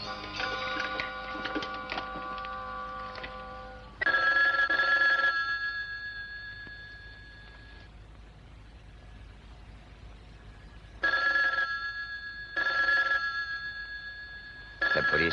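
A hotel telephone bell rings in repeated loud bursts, a long ring then two shorter ones after a quiet gap, with muffled background sounds between the rings.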